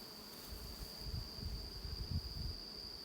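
Honeybees in a full robbing frenzy around uncovered honey boxes during fall hive work, a soft, continuous insect buzz with a faint steady tone above it, no voices.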